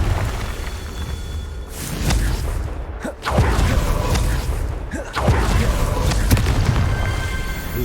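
Spell blasts from the Confringo fire spell in Hogwarts Legacy go off in a busy fight, loud booming bursts and whooshes at about two, three and five seconds over a dense roar of game effects.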